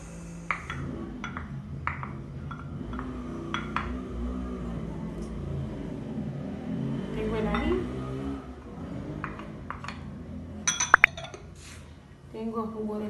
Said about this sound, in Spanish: Voy a proceder a mezclar. Aquí tengo el atún.